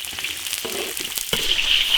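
Spices, ginger, garlic, scallion, Sichuan pepper and chili paste stir-fry in oil in a large rural iron wok for big-plate chicken, giving a steady sizzle with a few scraping stirs and a louder burst of frying near the end.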